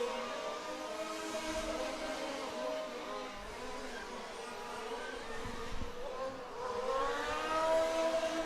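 Large-scale model F1 race car in Red Bull livery on an outdoor track, a high, thin, insect-like engine whine that rises and falls as it sweeps through a corner onto the straight, steady and moderately close.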